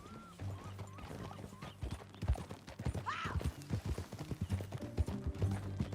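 Steady clip-clop of horse hooves in Red Dead Redemption 2 plods along at a walking pace, with a brief whinny partway through over a soft musical background.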